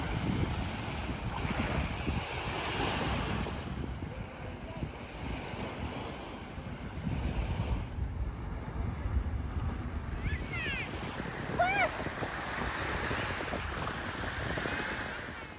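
Waves wash onto a clean, warm-water beach at Melilla, a broad rolling surf hiss heavily mixed with gusting wind buffeting the microphone, steady and moderately loud with faint voices underneath.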